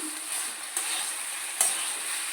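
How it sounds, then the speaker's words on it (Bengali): Rice being stirred and fried in a pan for prawn pulao, a continuous close sizzle with a few sharp scraping spikes from the spoon, no talk. "চালটাকে মিশিয়ে বারবার নাড়াচড় করে ভেজে নিতে হবে আমি ভালো করে চালটা ভেজে নিই"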